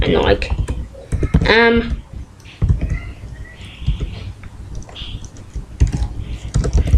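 Computer keyboard typing HTML code: a run of quick, light key clicks with uneven rhythm and short pauses, close and moderately loud, while a person speaks softly at times over it.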